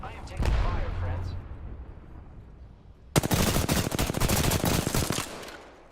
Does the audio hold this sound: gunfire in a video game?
yes